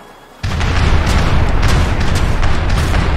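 Ship cannons fire in a sudden heavy boom after a brief quiet lead-in, followed by sustained rumbling blasts and crackling reports, loud and close.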